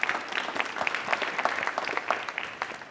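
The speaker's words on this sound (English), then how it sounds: "All right, round of applause." Audience applause at a fintech event, a dense patter of many hands clapping steadily for about three seconds, fairly close and even in level with no voices over it.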